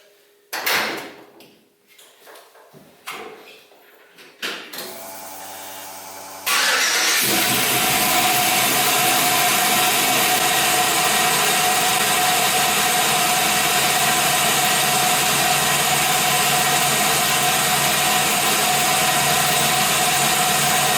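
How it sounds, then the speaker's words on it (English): An LS-swapped Chevrolet C10 truck on a cold engine cranks a few times in separate bursts, then fires and settles into a loud, steady idle that runs without interruption to the end. "So let's see how she starts."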